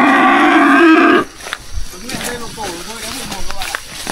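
A 3B breed cow in Khánh Hòa, Vietnam, gives one loud, close, drawn-out moo lasting about a second, followed by people talking nearby.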